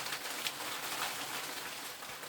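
Hail falling steadily across a garden, a dense, even patter of small ice pellets hitting plants and ground, moderately soft and continuous with no voices.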